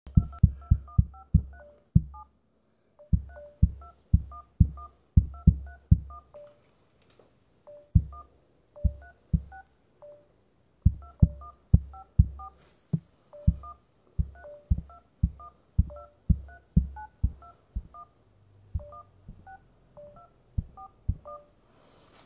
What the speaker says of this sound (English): theme tune on the phone keypad, so I hope you enjoy. This is how it sounds.